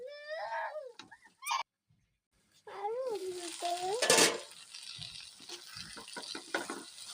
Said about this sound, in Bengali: তো বোয়াল মাছ দিয়ে টমেটো দিয়ে আর পেঁয়াজ কুচি দিয়ে আজকে একটি ভুনা রান্না করছি